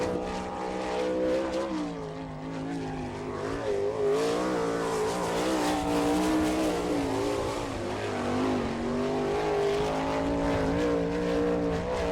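Jared Hall's number 51 sprint car, owned by Guy Webb, runs a qualifying lap at Attica, Ohio, in an All Star Circuit of Champions race: a loud, rising and falling engine howl that stays close and continuous throughout, with no voices.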